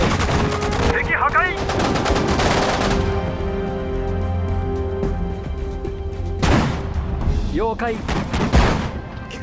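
Rapid machine gun bursts and scattered gunfire in the WWII strategy game Sudden Strike 4, Battle of Bataan, loud and continuous, with short Japanese voice callouts between volleys.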